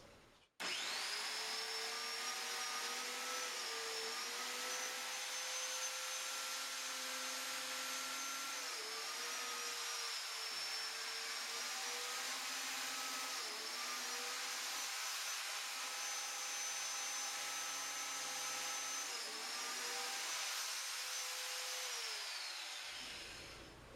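A biscuit joiner cuts slots in a wood panel for a bedside table project, its motor holding a steady high whine for about twenty seconds with brief dips as it bites into the wood, with no talking.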